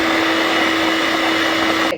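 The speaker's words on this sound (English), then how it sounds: "Let's whisk our yolks and our sugar together." Egg yolks and sugar whisked together in a bowl for a pistachio milk cake, a steady continuous electric whirring drone running loud and close for the whole stretch before cutting off at the very end.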